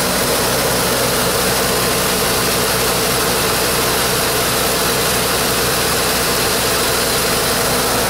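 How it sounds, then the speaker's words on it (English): A 1983 Zimmer Golden Spirit car engine idles steadily and loudly up close, a continuous even rumble with no break for the full stretch and no voices over it. "Once again, we'll come listen to the engine."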